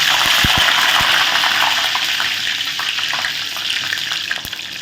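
Curry leaves frying in hot oil for pakoda give a loud, steady sizzle and crackle, with a few sharp pops near the start before the hiss eases slightly.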